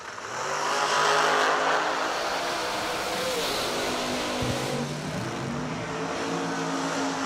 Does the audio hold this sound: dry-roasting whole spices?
no